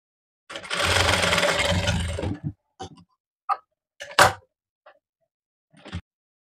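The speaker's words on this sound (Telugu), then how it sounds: "1/2 ఇంచ్ గ్యాప్తో షోల్డర్ స్టిచ్ చేయాలి." An electric sewing machine stitches the shoulder seams of a frock, starting with a steady two-second whirring run and followed by several short, separate bursts of stitching with silence between them.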